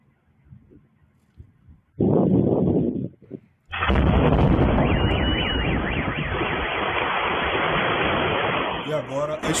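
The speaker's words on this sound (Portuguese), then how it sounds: "agora a explosão, né?" A bomb explosion in Belgorod during an air raid: a sudden loud blast, a brief dip, then a second heavy burst that rolls into sustained rumbling roar, with a warbling siren-like tone running through it.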